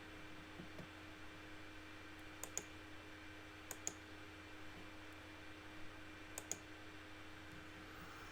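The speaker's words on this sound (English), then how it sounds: "click on this checkbox there at the top" Faint mouse clicks while ticking a checkbox in Photoshop, a few paired clicks spaced seconds apart over a steady low hum of room noise.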